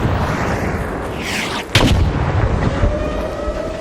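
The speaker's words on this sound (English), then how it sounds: "That Bastion's shooting." A Bastion robot enemy in Arc Raiders opens fire, a heavy booming blast over a constant loud rumble of battle ambience, with one sharp burst near the middle.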